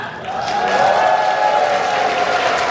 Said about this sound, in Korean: 여러분들, 박수왕성 발사!